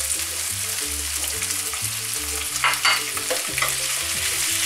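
Peppers and tomatoes for peperonata fry in a pan and are stirred, producing a steady close sizzle with a few scraping clatters of the spoon, no voices.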